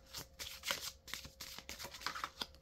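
Tarot cards being shuffled by hand, a close, crisp riffling and flicking in quick uneven bursts that come and go over a couple of seconds, with no talking.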